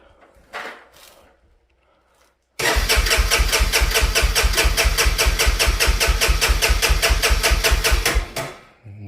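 A Honda Fourtrax quad with no spark cranks hard on its starter: a fast, even chugging rhythm for about six seconds that never catches, loud and close, then winds down. A brief faint rustle comes before it.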